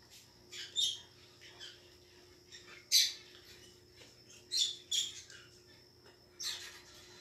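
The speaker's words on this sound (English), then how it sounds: "You guys probably hear my birdies." Pet finches and lovebirds chirp and squawk indoors in short, bright bursts scattered through the clip, with a steady low hum underneath and no talking.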